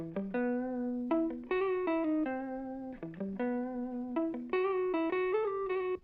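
An electric guitar plays a short melodic phrase of sustained single notes with a full, mid-heavy tone and a touch of distortion.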